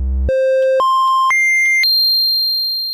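A steady triangle wave synth oscillator tone with a soft, hollow character jumps upward in pitch in five distinct steps, loud and continuous.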